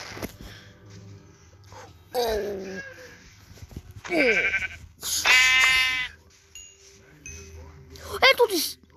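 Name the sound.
sheep bleating in video game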